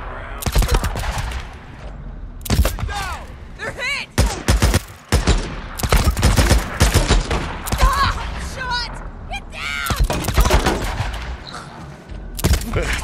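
Days Gone firefight with repeated sharp gunshots and rapid bursts coming in uneven clusters, some loud and close, broken by short gaps, with shouting voices and other combat sounds between the shots.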